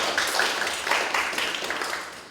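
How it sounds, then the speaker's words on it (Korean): Applause from the audience at a discussion meeting on economic topics, a brief patter of many hands clapping at moderate volume, fading slightly toward the end. "한번 박수 한번 쳐주시죠"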